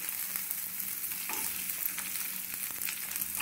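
Garlic cloves, ginger, coconut, curry leaves and green chilli frying on low heat for sambhar, a soft continuous crackling sizzle with occasional stirring scrapes, no talking.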